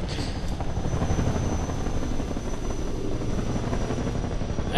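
A helicopter in the video game Half-Life 2 drones with a loud, steady rotor roar that holds throughout, dense and continuous with no pauses.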